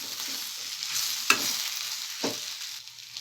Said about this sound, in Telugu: బాగా కలిపేసుకోవాలి